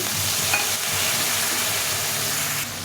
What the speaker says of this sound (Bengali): এখন আমি এই গোলানো মশলাটা আমি দিয়ে দেবো দিয়ে এটাকে ভালো করে একটু ভেজে